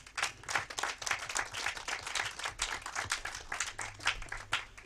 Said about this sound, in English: So I would like for everyone to clap